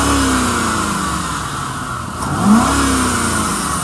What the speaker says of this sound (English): I'm gonna rev it up for you so you can see that the motor is good.